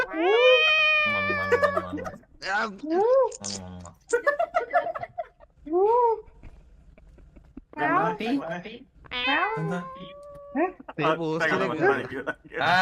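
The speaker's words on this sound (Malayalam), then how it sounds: "ഈ പൂച്ചക്കാട്ടകള്" Cats meow repeatedly in a string of rising and falling, fairly close calls separated by short pauses, with several overlapping whines and cries.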